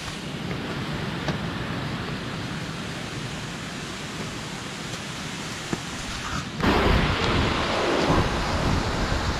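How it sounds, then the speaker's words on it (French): Waterfalls roaring along a mountain trail in the rain, a steady broadband rush that swells louder partway through, with no talking. "Des cascades de partout."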